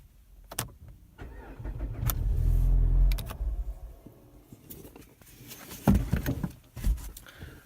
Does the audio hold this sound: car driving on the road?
yes